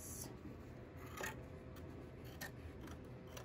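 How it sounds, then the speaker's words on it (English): Scissors trimming fabric during machine embroidery of a Halloween quilt block, faint close snips and rubbing over a low steady hum, with a few soft brief cuts. "these are the crappy scissors"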